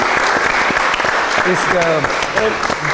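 Loud applause from a crowd, with a voice speaking over the clapping.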